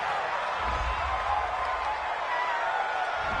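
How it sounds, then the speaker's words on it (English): A home football crowd in a stadium roars steadily after a pass interference flag, a continuous broad cheer with no distinct claps. "This home crowd, they're happy with that call"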